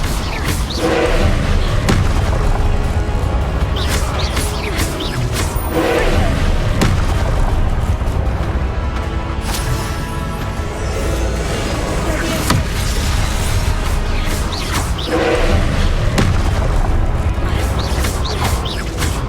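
Repeated Confringo spell explosions in the Hogwarts Legacy video game: loud booming thuds recur every few seconds over a constant dense rumble of game sound, with voices mixed in.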